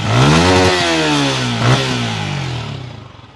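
Secondhand motorcycle engine revving up loud and close, rising and falling in pitch twice before settling back toward a smooth idle, with no voices.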